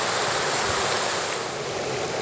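Mountain stream water on the main channel of the Gamada River, a steady, loud, broadband rushing wash close by with no breaks and no voices.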